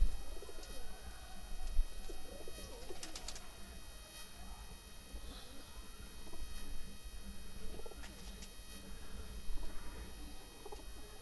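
A breeding wild pigeon coos softly outdoors, low murmuring calls repeating now and then over faint rustling and background noise, with no talk.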